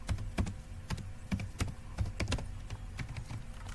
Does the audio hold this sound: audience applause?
no